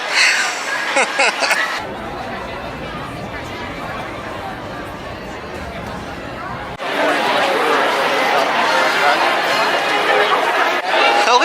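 Steady crowd chatter from many people waiting for a bus to Hollywood Studios at a Disney resort, a dense babble of overlapping voices with occasional laughter, quieter in the middle stretch and louder toward the end.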